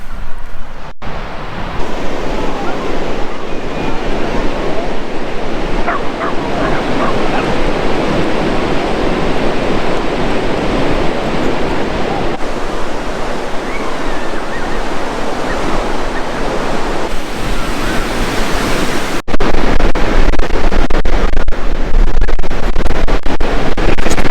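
Ocean waves wash onto Perranporth beach in Cornwall, a loud, continuous roar of surf mixed with wind buffeting the microphone, with no speech.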